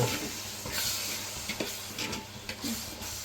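Crabs fry and sizzle in a pan of spiced oil for Rajahmundry crab curry, with a continuous hiss and occasional stirring scrapes close by.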